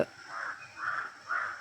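A crow caws three times on a morning in Pathanamthitta, each harsh call close and clear, spaced by short gaps over a faint steady background with no talk.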